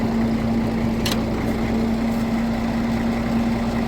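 A Case 500 diesel tractor runs at a steady idle with the PTO spinning, a constant loud low drone with a clear hum and one short clank partway through.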